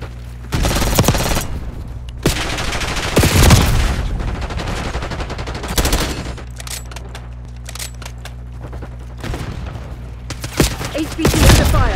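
Gunfire in the Call of Duty: Black Ops 6 online multiplayer video game, with loud rapid automatic bursts and heavy shots in repeated clusters and short lulls between them.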